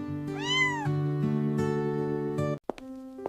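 A small cat, once injured and now recovering, meows in a few drawn-out, tonal cries, close and fairly clear, ending in short chirps after a brief pause.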